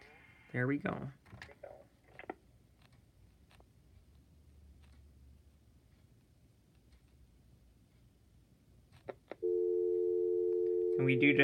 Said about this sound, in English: And we do just get hit with dial tone at the end.